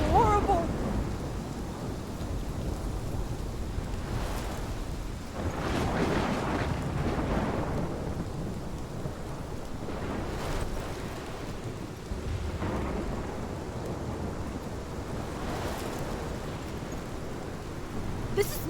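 Thunderstorm in the video game Life Is Strange Remastered, with steady heavy rain and wind noise under several deep rolling thunder rumbles spread across the stretch, loud and continuous.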